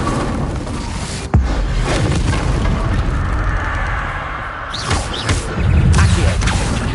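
An Incendio fire spell is cast in the video game Hogwarts Legacy. A loud booming burst of flame sounds near the start, then a rumbling, whooshing roar, followed by further bursts and crackling blasts later on, with no speech.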